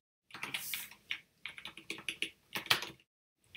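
Rapid bursts of typing on a computer keyboard while configuring a SaltStack state file, clustered key clicks in uneven runs with short pauses, close and fairly crisp, no speech.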